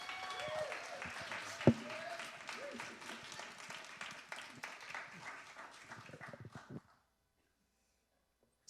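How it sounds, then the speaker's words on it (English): In a church service, the congregation gives a round of clapping that sounds quiet and somewhat distant, then thins out and stops after about seven seconds, leaving near silence. "And let's give Jeremiah a round of applause."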